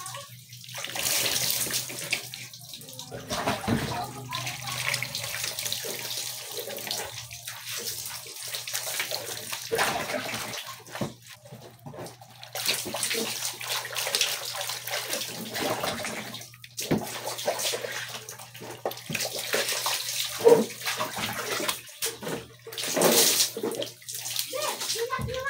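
Water runs steadily from a tap during a bath, a close, continuous splashing flow that briefly drops out a few times, with faint voices talking in the background.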